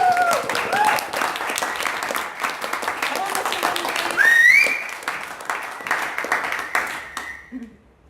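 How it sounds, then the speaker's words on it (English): A live audience applauds a keynote speaker at a community coffee-and-chat gathering, a dense steady wash of clapping lasting several seconds with a few overlapping voices and a whistle-like tone, then fading near the end. "Please give a big round of applause to Jay."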